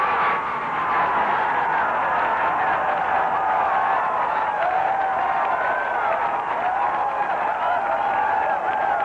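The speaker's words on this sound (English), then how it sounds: "the crowd going crazy" Golf gallery crowd at the 1984 US Open final round roaring and applauding, a steady, loud wash of cheers and clapping with whistles and shouting voices running throughout.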